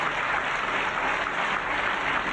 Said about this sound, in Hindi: परमेश्वर को ताली बजा के महिमा दें।